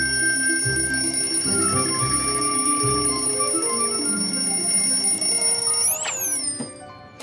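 A cartoon alarm clock rings loudly and steadily in a bright, sustained metallic tone, then ends in a quick rising, warping swoop before cutting off.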